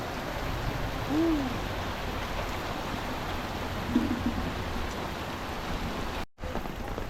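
Steady rain falls outdoors in a rural area in Bulacan, a dense continuous hiss running the whole length at moderate level with no talk.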